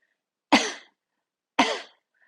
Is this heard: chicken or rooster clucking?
no